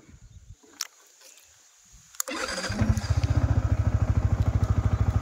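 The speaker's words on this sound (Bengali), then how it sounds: "আমি চলে যাচ্ছি বাইক নিয়ে" After a few quiet clicks and knocks, a motorcycle engine starts with a sharp catch, then settles into a loud, even, rapid thumping idle close by.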